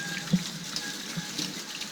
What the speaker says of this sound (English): I'm going to wash off my hand really fast.